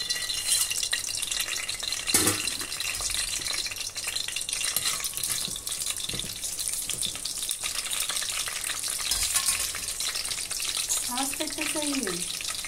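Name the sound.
whole spices (cinnamon, cardamom, cloves, shahjeera) frying in pan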